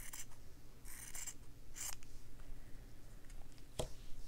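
Scissors snip through embroidery fabric while trimming a cactus stitching piece, giving a few short, crisp cutting bursts close by over a quiet room background.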